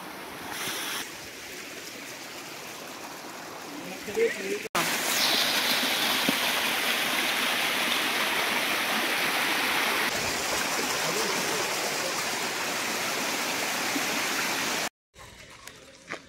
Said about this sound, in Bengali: দেখো জলটা দেখাচ্ছি, এরকম ওপর দিয়ে আসছে আমাদের পা।